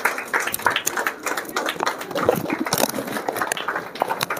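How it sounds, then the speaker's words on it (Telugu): Scattered, uneven hand clapping at a celebration gathering, close and moderately loud, a dense patter of claps continuing for several seconds with no clear speech over it. "చప్పట్లు సరిపోతలే."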